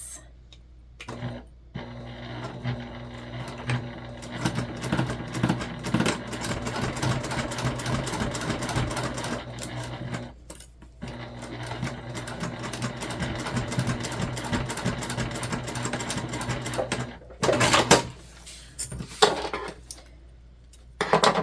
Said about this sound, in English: sew this together the exact same way